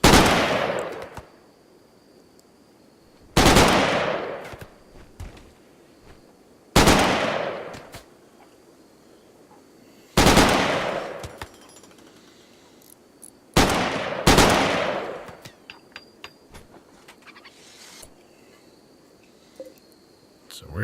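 Short bursts of rapid gunfire from a RimWorld battle come in about six spaced volleys, each sharp crack fading out over a quiet background with a steady insect-like chirp and scattered small clicks.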